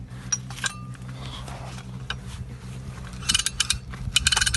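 A used, incomplete farm machinery part for plough or cultivator equipment is turned by hand, its brass ratchet and toothed gears clicking and clinking close by in irregular bursts that grow busier toward the end.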